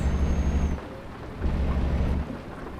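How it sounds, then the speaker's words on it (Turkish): Steady rain with low rumbling thunder in Euro Truck Simulator 2, rolling in two long swells, fairly loud and continuous, no voices. "Aynı zamanda yağmurlu bir güne uyandık."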